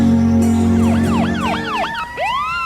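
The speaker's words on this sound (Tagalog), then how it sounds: "Pulis at ambulansyang dumating. Magkasunod pa." Police car and ambulance sirens arrive one after another, their rising and falling wails sweeping loudly and close over a steady low drone.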